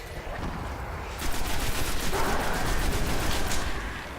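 Rapid gunfire from the video game Destiny, a dense stream of sharp shots starting abruptly and rattling on for a few seconds over background game noise, no talking.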